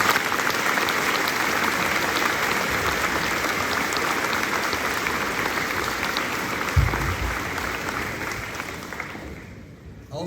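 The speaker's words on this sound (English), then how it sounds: "please give a round of applause" Sustained applause from a crowd at a high school graduation ceremony, dense steady clapping at even loudness for about ten seconds before tapering off, heard from within the audience.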